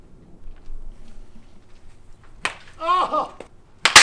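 A wooden baseball bat strikes a ball in a batting cage, giving a sharp crack, then a second loud crack near the end. A voice shouts an exclamation between the hits.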